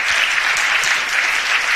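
Steady, dense applause from a seated audience at an opening ceremony, filling the whole moment evenly at close range with no pauses or voices.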